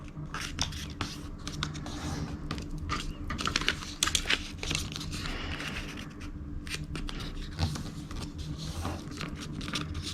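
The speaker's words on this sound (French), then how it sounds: "Et je viens plier mon enveloppe." Paper being folded and creased for a junk-journal envelope, a close run of crisp rustles, taps and quick scraping strokes coming in irregular bursts throughout.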